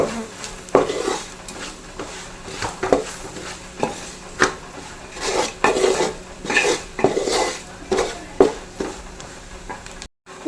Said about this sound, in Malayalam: നല്ലപോലെ ഒന്ന് മിക്സ് ചെയ്ത് കൊടുക്കാം ഈ എണ്ണ കിടന്ന് പൊടിയൊക്കെ നല്ലപോലെ ഒന്ന് മൂത്ത് വരണം